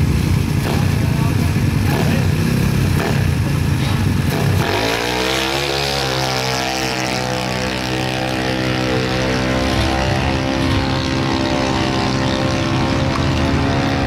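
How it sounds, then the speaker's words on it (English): A continuous engine drone runs the whole time, rising in pitch as a stretched drag-racing moped revs up and then holds a steady buzzing whine. "We have a moped"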